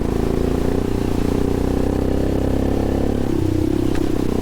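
A motorcycle climbs uphill toward a hilltop, its worn, recently repaired drivetrain and sprockets under load, giving a steady, close engine drone with a low rumble and light mechanical clatter throughout, with no talking.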